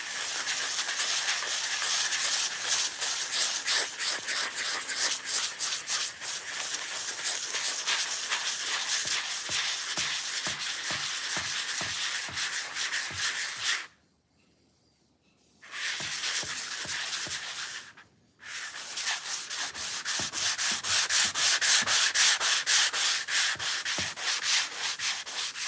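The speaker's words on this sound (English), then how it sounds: "Got this like foam sanding thing." Hand sanding a wooden table with a foam sanding block, a close, rhythmic rasping of quick back-and-forth strokes that runs almost continuously, broken by two brief pauses, with no speech.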